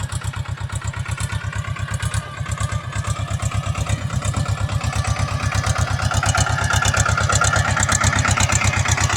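A homemade jugaad tractor engine runs steadily up close, with a fast, even thumping putter and a metallic clatter that grows slightly louder over time. No one speaks.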